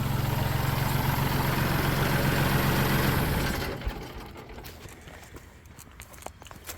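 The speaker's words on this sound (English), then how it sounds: "let me shut this tractor off." A farm tractor engine idles in a steady low chug for about three and a half seconds, then is shut off, leaving quiet outdoor background with faint scattered knocks.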